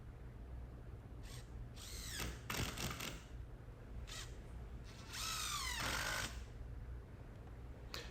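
A power drill drives screws into 2x4 lumber for a wooden patio table, with two short whirring bursts rising in pitch, the second longer, over a steady background hum.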